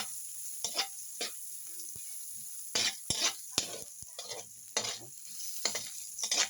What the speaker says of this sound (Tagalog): magigisa na po tayo ng para sa sauce ng ating ulam na sweet and sour tilapia